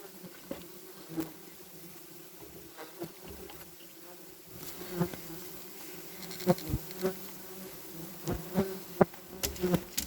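Wasps buzz around large nests in an attic, a faint, wavering drone with intermittent louder passes and small taps, growing busier toward the end.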